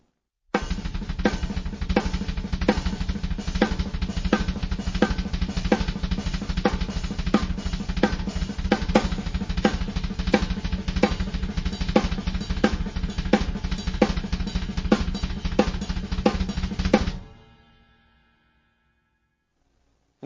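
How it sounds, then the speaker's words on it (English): Drum kit played in a steady dense groove with triplets on the kick drums around an accent pattern, close and loud, running unbroken for about seventeen seconds before stopping cleanly into silence. "I'm going to put triplets on the kick drums around this accent pattern"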